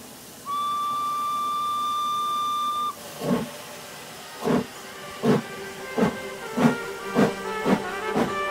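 A steam train's whistle sounds one long steady blast, then the engine chuffs in rhythmic bursts of steam that gradually speed up, loud and near with no talk.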